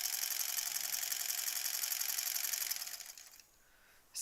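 A sewing machine runs steadily while stitching a quilt border through thick piles of seams, a loud continuous mechanical whir that thins out and stops near the end.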